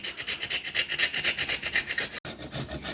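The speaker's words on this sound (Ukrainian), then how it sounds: "Натираю часник," Rapid, rhythmic rasping strokes of garlic being grated, loud and close, with a brief pause before the scraping resumes.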